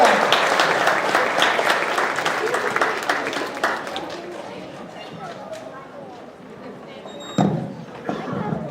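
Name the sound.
audience applause for Hannah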